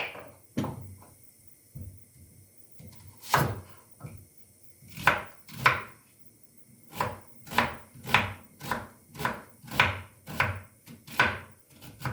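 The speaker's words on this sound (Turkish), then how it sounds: "Daha sonra soğanı doğrayacağım." Rapid knife chops through an onion on a cutting board, a burst of about a dozen sharp, evenly spaced strikes after a few scattered ones, close and clear.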